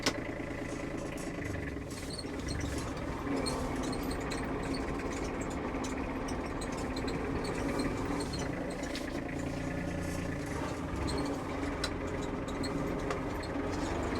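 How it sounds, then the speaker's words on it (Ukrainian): An ISEKI TG273 compact tractor engine running steadily while the tractor turns in place, a constant mid-pitched idling drone with faint vibration, moderately quiet and unbroken. "трактор навколо своєї осі розвертається."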